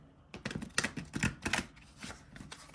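Stiff cardboard oracle cards cascade in a waterfall shuffle, a quick flurry of close, crisp flicking clicks over a few seconds, fairly quiet and heard alone.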